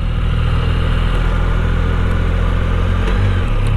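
A Can-Am Spyder three-wheeler's engine hums steadily and loudly while riding, its pitch shifting near the end as it moves up into second gear.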